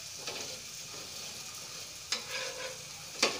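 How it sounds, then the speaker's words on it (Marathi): Potato aloo cheela batter sizzles steadily in a hot pan, with a soft, constant frying hiss and a couple of sharp scrapes or taps of a spatula against the pan. "दोन्ही साइड चांगली भाजू द्यायची।"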